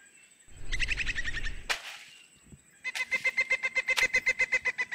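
A chicken clucking close by: a harsh squawk followed by a rapid run of evenly spaced, loud clucks and chirps, with brief pauses, and no talk.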